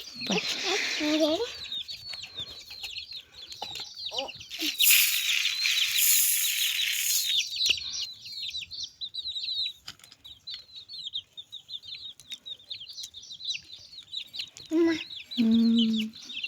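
Chicks cluck and peep continuously at close range while eating rice, with a burst of wing flapping early on and a person speaking briefly near the end.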